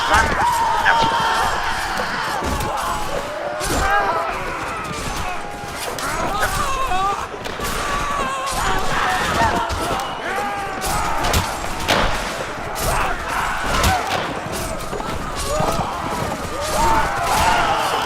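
Scattered musket fire crackles through a Mount & Blade Warband Civil War mod battle, with dense, overlapping shots and thuds running continuously, mixed with shouting voices and crowd noise.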